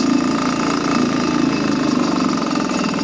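A 1940 Waterwich 3/4hp air-cooled outboard motor, model 571.34, with a Tillotson carburetor, running close by with a fast, even, buzzing putter that holds steady throughout.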